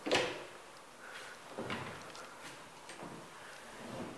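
A door to a toilet area in a lodging is opened, giving a sharp latch click at the start followed by a few softer knocks and shuffles in a quiet indoor room.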